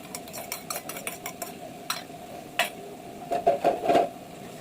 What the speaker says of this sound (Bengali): আমি টক দই আর টমেটো সস আর একটু চিনি একসাথে মিশিয়ে এখানে দিয়ে দিচ্ছি।